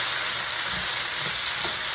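Potatoes frying in butter and oil in a pan give a dense, steady sizzle with soft crackles throughout, close and loud, with no voices.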